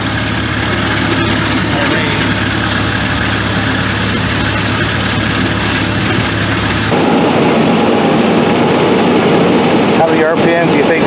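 An Allis Chalmers D17 tractor engine runs steadily at a loud, close, constant drone with a deep rumble, its tone shifting slightly partway through as someone talks over it.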